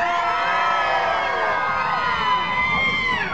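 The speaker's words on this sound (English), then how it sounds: "on three, I want you to scream" A large theater audience at a Broadway show screams and cheers on cue, a dense, loud, sustained roar of many voices with high shrieks, steady from start to finish.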